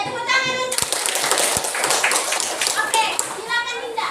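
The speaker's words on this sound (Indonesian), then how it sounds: "Iya, tepuk tangan untuk." Classroom applause for a student, a burst of clapping from children mixed with kids' chatter and a teacher's voice.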